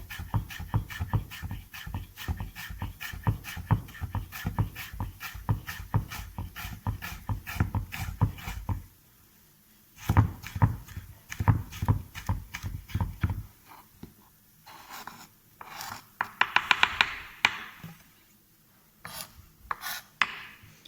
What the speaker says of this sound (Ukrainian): Потім ми беремо і нарізуємо Морку, Морку нарізуємо соломкою.